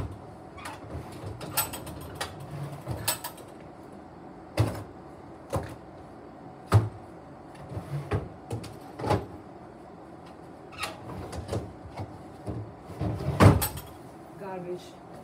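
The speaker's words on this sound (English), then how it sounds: "open the drawer." A drawer opens and closes in a care room, giving scattered short knocks and sliding thumps at irregular intervals, with people talking quietly in between.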